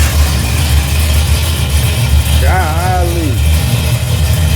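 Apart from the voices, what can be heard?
car engine with rebuilt Holley carburetor idling after cold start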